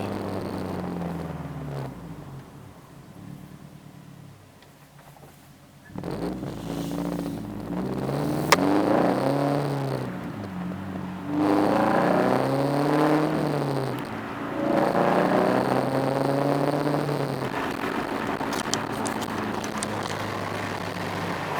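A Subaru BRZ fitted with an aftermarket header is driven. The engine hums from inside the cabin, rising and falling steadily through repeated revs and gear changes, with a sudden louder surge partway through.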